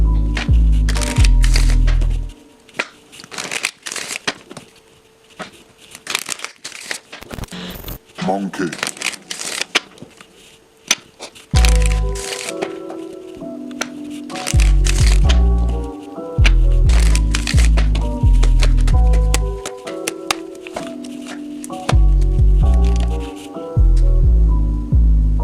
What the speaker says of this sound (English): now that the second deck is shuffled